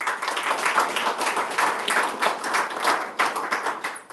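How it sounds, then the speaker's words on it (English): An audience at a city council meeting claps steadily for a youth softball championship team, with dense, even applause throughout at moderate loudness and no talking. "Please give a round of applause."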